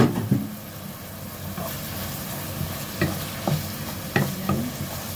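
Carrots and beef cook in a pan, a soft sizzle under several sharp clinks and scrapes of a utensil against the pan, with a low background hum and no speech.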